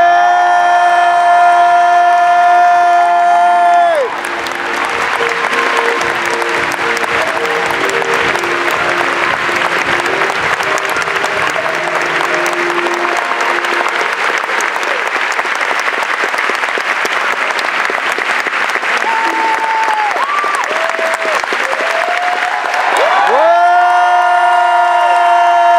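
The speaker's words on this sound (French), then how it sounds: "c'est un tonnerre d'applaudissements pour accueillir Audrey Fleurot" A thunderous wave of applause and cheering from a masterclass audience welcoming actress Audrey Fleurot, loud and sustained for about twenty seconds, framed by music before and after.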